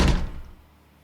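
A bathroom door is slammed hard as a story sound effect, one loud close thud that decays quickly into silence.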